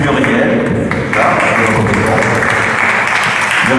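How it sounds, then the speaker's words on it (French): Loud, close clapping from an audience at a benefit gathering for a chapel restoration in Grasse, greeting a guest author and singer named Muriel, with voices mixed into the dense applause. "Je vous demande d'applaudir Muriel."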